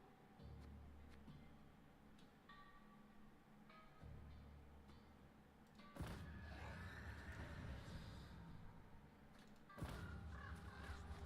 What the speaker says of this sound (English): I like the sound of the crows.